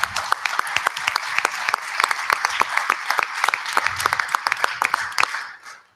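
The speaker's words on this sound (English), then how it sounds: "Can we give them a round of applause?" A school board meeting audience applauds students, many hands producing a busy patter with sharp individual claps standing out, sustained evenly before tapering off at the end.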